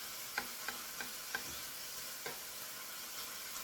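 Bacon pieces frying in a pan as they are pushed around, a faint sizzle with a few light clicks of the utensil against the pan, quiet and close.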